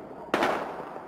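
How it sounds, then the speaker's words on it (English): A sharp burst of gunfire from the video game Battlefield Hardline erupts after a short quiet moment, followed by a ringing, echoing decay, loud and close. "We've got gunshots."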